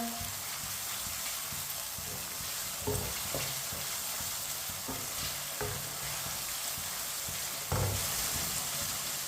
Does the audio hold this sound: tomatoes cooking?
yes